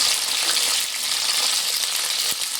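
Cut flat beans frying with black cumin in a pan, stirred: a dense, steady close-up sizzle throughout, with a sharp tap of the spoon near the end and no talk.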